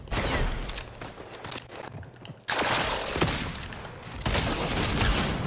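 Gunfire in Fortnite, dense bursts of rapid shots that cut off abruptly and then resume, loud and close with a brief quiet gap, no talking.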